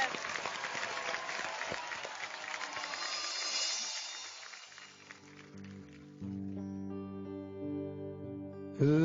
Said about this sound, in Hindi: चलिए एक बार जोरदार तालियां